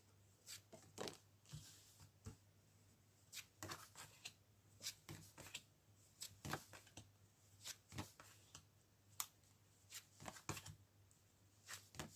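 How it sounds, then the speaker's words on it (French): Tarot cards shuffled and drawn by hand, making a steady run of crisp, papery riffles and slaps at close range. The bursts come in an uneven rhythm over a low steady hum. "on peut tirer des cartes sur l'emprise, justement, pour essayer d'avoir un peu plus d'informations dessus"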